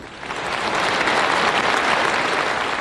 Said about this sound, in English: as the mostly Hispanic audience in Los Angeles applauds